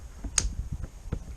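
The pin on a Bestway Hydro-Force Oceana paddle board paddle snapping into its hole, one sharp close click followed by a few faint handling taps on the shaft.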